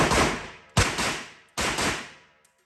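Three sharp, loud pistol shots from a Shadow Systems handgun fitted with a thread-on compensator, spaced under a second apart, each a hard crack with a decaying tail and no talk.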